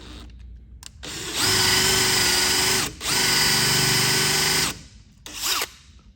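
A power drill boring through plywood: a brief motor blip, then two long steady high-pitched whining runs with a short dip between, followed by a final short burst, loud and close with no talk.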